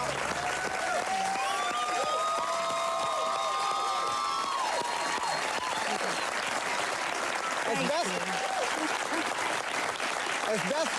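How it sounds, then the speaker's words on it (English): Studio audience applause and cheering on a 1998 television talk show, sustained and loud throughout, with some voices and whistles rising over the clapping. "as best I can tell from the applause"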